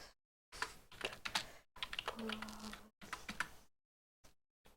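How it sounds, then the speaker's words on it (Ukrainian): Keys clatter in quick bursts of typing on a cheap Gembird computer keyboard with backlighting, close and clear, with short pauses between runs of keystrokes and a few isolated taps at the end. "Давайте надрукуємо. Це тест клавіатури"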